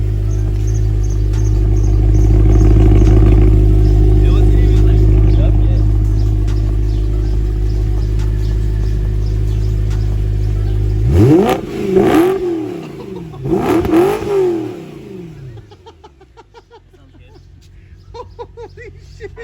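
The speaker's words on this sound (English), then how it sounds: "AFE Scorcher Axleback with test pipes" A BMW E92 M3 with an AFE Scorcher axle-back exhaust and test pipes rumbles loudly and close at a steady high idle, then gives two sharp throttle blips, each swelling and dropping away, before settling to a quieter idle.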